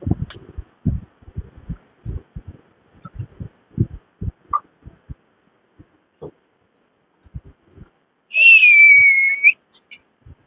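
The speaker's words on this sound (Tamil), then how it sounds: "அந்த விசில் சத்தம்" At the Karuppasamy temple in Puliyarai, Tenkasi, a single sustained whistle rings out loud for about a second, following a scatter of soft knocks and taps.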